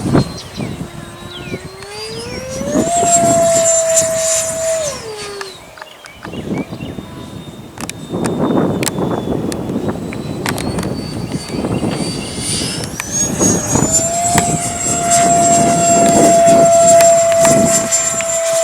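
A radio-controlled Viper model jet spools up and takes off on a windy day, a loud rising whine that fades and then swells again as it passes near, with bursts of wind and brief talk.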